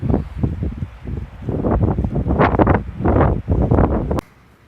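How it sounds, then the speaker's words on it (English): Strong, cold gusty sea wind on the Isle of Arran buffeting the microphone in loud, roaring bursts that rise and fall, then cut off abruptly near the end. "it was getting a bit pretty windy, strong sea breeze"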